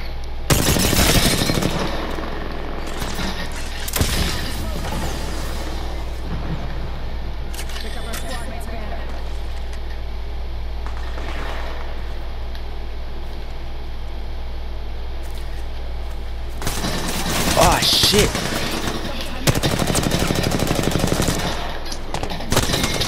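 Automatic machine gun fire in an online shooter video game, loud rapid bursts at the start and again later, with quieter gameplay noise between and a player talking over much of it.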